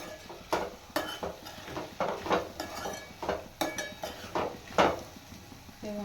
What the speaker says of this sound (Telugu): ఇందులో పచ్చిరొయ్యలు వేసేస్తున్నాను. పచ్చిరొయ్యలు వేసేసుకొని కలుపుకుందాం మొత్తం.